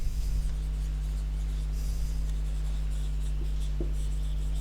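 Chalk or marker scratching steadily across a board as a math teacher writes a common multiple during a class 6 lesson, a soft continuous scraping close to the mic over a constant low electrical hum, with no talking.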